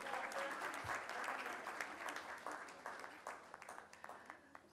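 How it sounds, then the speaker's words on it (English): Audience at an award ceremony breaks into sustained applause, a dense crackle of many hands clapping at moderate distance, fairly faint overall and thinning toward the end, with some background voices mixed in. "A round of applause for Makrand,"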